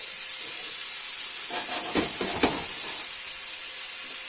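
Atlantic cod fillet frying slowly in a pan with a touch of butter, a steady loud sizzle and hiss that runs throughout, with a few soft clatters from the pan partway through and no talking.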